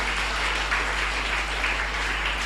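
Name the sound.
audience applause for conference presenters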